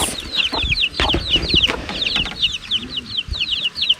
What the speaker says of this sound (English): Those are tiny little chicks.